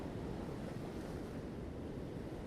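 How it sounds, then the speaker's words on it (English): Ocean waves and surf rushing in a continuous broadband wash, steady and fairly loud with some wind noise mixed in, no voices. "So I've surrounded myself with the ocean."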